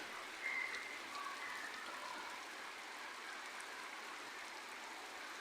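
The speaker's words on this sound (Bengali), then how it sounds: "বৃষ্টি হইতেছে বাইরে" A soft, steady hiss of rain falling, even and constant throughout, heard faintly from indoors.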